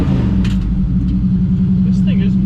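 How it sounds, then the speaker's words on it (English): A 1955 Chevy gasser with loud mufflers and a bigger exhaust pipe makes a deep, steady rumble throughout. The sound is heavy and close, with voices over it. "This thing is much louder than the old 55, but louder mufflers, bigger pipe"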